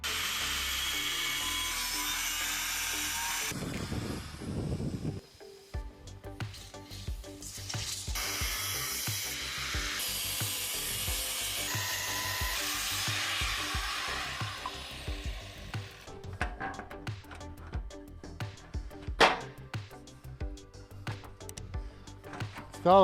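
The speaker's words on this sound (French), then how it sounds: "je vais faire quelques coupes ici et sur le tube supérieur" Steel tubes for a homemade sliding gate are cut with a power tool, giving a harsh, buzzing grind that stops, then restarts with irregular rattling and clanking bursts.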